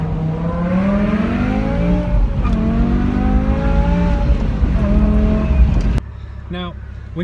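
BMW E60 M5 V10 engine accelerating, a loud, rising howl that climbs in pitch through several pulls, then cuts abruptly to a quieter, muffled idle near the end.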